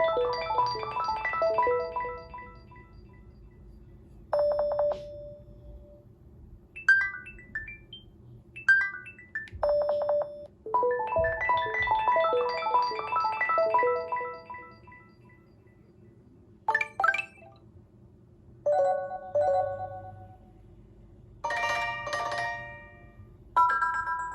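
A Google Pixel plays its default ringtone for an incoming call, a bright, minimal marimba-like melody of chiming notes repeating in short phrases with pauses between them, clear and close.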